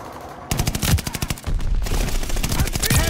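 Rapid automatic gunfire from a Call of Duty Vanguard multiplayer match, long close bursts of fast shots with a short gap near the middle, loud and alone.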